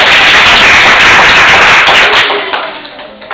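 Audience at a children's reading competition giving the chairman loud, dense applause that holds steady, then thins out and fades to a few scattered claps.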